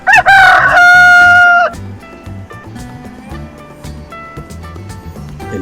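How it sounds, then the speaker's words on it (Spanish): A rooster crows loudly once at the start, a bright drawn-out call lasting under two seconds, followed by quieter background music. "El gallo canta."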